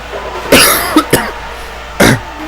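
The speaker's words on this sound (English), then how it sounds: "And yeah, the coughing." A few harsh, loud coughs from someone with a cold, close by: a heavy first one, a quick pair, then another after a pause.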